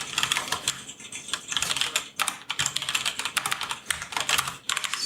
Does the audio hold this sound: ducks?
no